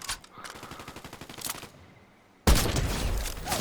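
Rapid bursts of gunfire from the Fortnite video game, a fast rattling volley followed by a sudden louder, denser spray of shots near the end, with no talk over it.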